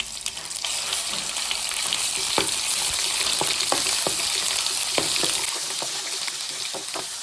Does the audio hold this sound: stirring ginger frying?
yes